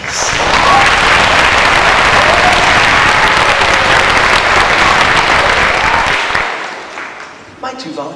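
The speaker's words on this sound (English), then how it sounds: "Give them a nice cheer, please." A school audience applauds and cheers loudly for student volunteers at a jump rope fitness event, dense clapping that fades out after about six seconds, followed by a voice.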